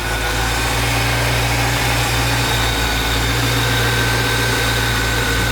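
A 1977 Mercedes 450SLC engine idles steadily and close by, with its idle turned right down while cold, a constant low drone with no talking.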